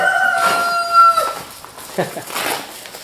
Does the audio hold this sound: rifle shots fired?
no